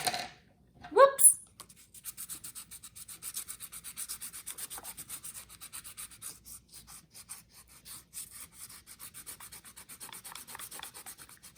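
Crayon or pencil rubbing back and forth over paper laid on a shoe sole with little loops and lines, a steady rapid scratchy rasp close up that continues for several seconds after a brief voice at the start.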